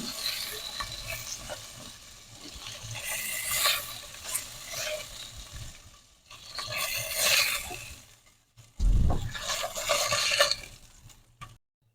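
Poa fish fries in oil in a pan, a crackling sizzle broken by bursts of stirring and spatula scraping against the metal, close and uneven in loudness, without speech.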